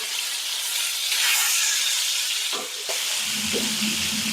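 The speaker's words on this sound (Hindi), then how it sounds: "तो नॉनस्टिक बर्तन में बहुत ही आसानी से मछली भून रहा है देखिए।" Bhola fish frying in a nonstick pan gives a loud, steady sizzle and hiss, with a few brief clatters as the pieces are turned partway through.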